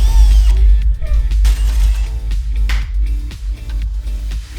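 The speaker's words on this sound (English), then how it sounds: "Now I just got to cut it with a hole saw." Power drill with a hole saw grinding through drywall in a bathroom, loud and close, a steady whirring cut with wavering pitch throughout.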